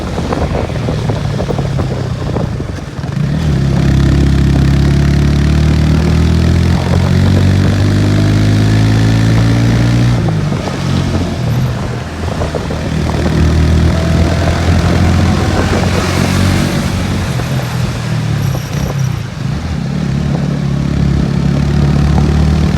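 A Yamaha R1 sport motorcycle engine on a rainy hill ride up to Yercaud: a loud, steady droning roar with rising and falling revving tones that holds for over twenty seconds, with no voices.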